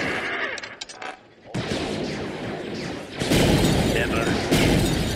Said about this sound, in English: Oh, there's gonna be a firefight.